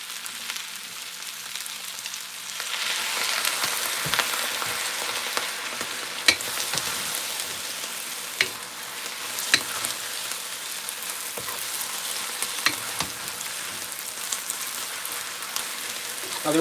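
Vegetables and noodles stir-fry in a pan with soy sauce, giving off a steady, close, rain-like sizzle. Scattered scrapes and taps of stirring run through it, and nobody speaks.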